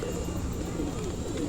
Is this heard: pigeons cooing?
yes